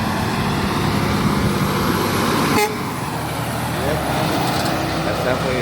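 A Hadley H970A air horn on a passing truck honks amid road traffic noise, with a loud engine rumble and a brief blast partway through, while a person talks nearby.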